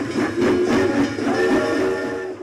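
A train rumbles along with a steady, loud mechanical roar and faint rhythmic rail clatter, a loaded freight train carrying crates of documents and objects toward Germany.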